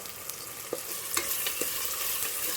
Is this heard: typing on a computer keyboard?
no